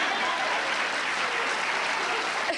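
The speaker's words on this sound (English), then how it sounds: "And you guys will clap for anything." Concert audience applauding, a dense, steady wash of clapping held at even loudness from start to finish, with no voices over it.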